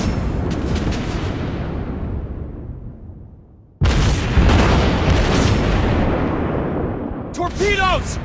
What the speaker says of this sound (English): Torpedoes! Heavily damaged!